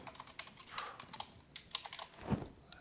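Fingers tap out a search on a computer keyboard, a quick, irregular run of soft clicks heard close up and quiet, with no talking.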